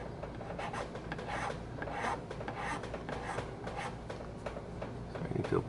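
Repeated rasping strokes of sandpaper rub back and forth on a cracked Dunhill 305 tobacco pipe in a steady rhythm, gritty and close, with a faint voice underneath at times.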